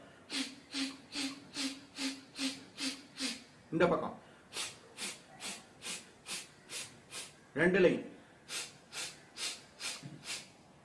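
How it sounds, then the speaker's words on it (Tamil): Kapalabhati yoga breathing: sharp, forceful nasal exhalations in steady rounds of about seven, each round ending in a deeper breath, close and distinct, with a few quiet spoken words. "இப்ப முதல்ல கபாலபதி 7 முறை மூக்கு சிந்துரம்."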